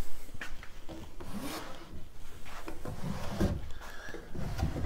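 Wooden drawer of a large antique pine linen press slides open and shut, giving repeated rubbing, scraping wood-on-wood sounds with a few soft knocks, close and moderately loud.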